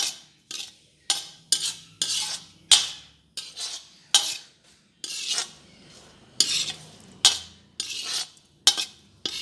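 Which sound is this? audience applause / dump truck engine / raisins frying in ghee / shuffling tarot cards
raisins frying in ghee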